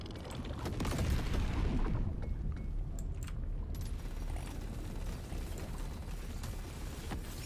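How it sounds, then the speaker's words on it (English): A minigun fires rapid streams of bullets in the video game Deep Rock Galactic Survivor, a dense crackling rattle with mechanical clicks, steady and close under layered game effects, no talk. "And we shoot out in a spray of bullets."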